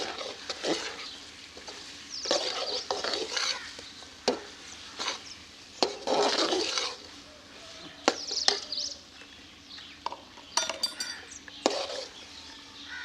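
Matar keema being roasted in a pan with ground garam masala added, with uneven stirring scrapes and a soft sizzle rising and falling, louder spatula strokes clustering in bursts over a low background hiss.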